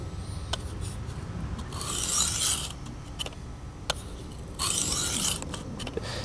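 A knife sharpened on a Worksharp guided sharpening system: two distinct abrasive scraping strokes a few seconds apart, close and gritty, separated by light clicks and handling noise.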